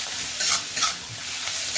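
Onions fry with turmeric and salt in a pan, a close steady sizzle broken by a few quick scraping stirs.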